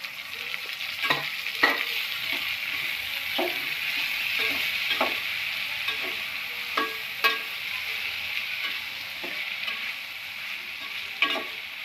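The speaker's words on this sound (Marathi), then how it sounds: "आता याच्यामध्ये आपण टमाटे टाकू. ते थोडे जाड जाड टमाटे कापले ते टाकून घेऊ." Chopped tomatoes fry for prawn biryani, with ginger and garlic already in the pan. They give a soft, steady sizzle, and a spoon clinks and scrapes in irregular taps as the mix is stirred. The sound is quiet and close.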